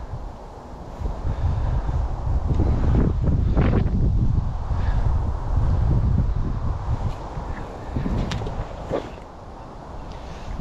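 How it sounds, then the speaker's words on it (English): Cold wind gusting across an open fishing lake, a broad steady rush that swells and eases over several seconds, buffeting the microphone with low rumbling noise throughout. "The wind's really starting to pick up now. It's a cold wind as well."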